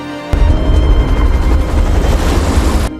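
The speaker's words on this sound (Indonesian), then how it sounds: "truk itu menabrak truk lainnya yang berisi gas sehingga membuat ledakan besar." A gas-laden truck explodes after being rammed by another truck, a sudden loud blast followed by a sustained heavy roar and rumble of fire and debris that holds steady before cutting off abruptly.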